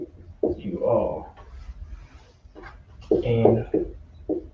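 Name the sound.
dog noise in the room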